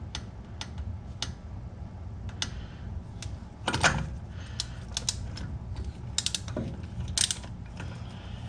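A wrench clicks as it retightens the wheel bearing adjusting nut on a Toyota pickup, giving scattered sharp ticks and a few louder metallic knocks, close and alone without talk.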